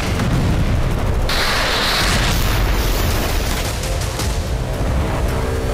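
Heavy bombardment of Hezbollah positions inside Lebanon in news footage: a continuous, roaring wash of booming explosions and rumble, loud throughout with a sudden surge partway in, and no voices.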